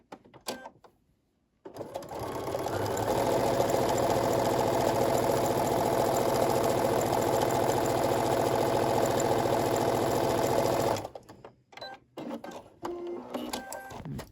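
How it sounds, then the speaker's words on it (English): A sewing machine stitches a seam line on a paper-pieced heart quilt block in one continuous burst of about nine seconds, with quiet handling sounds before and after it. "now I can sew the line between 7 and 8"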